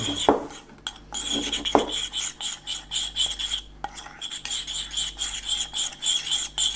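Spice powders are mixed together in a bowl with a spoon, giving repeated gritty scraping and rubbing strokes in a quick, uneven rhythm, with a couple of sharper knocks early on, close and dry with no voices.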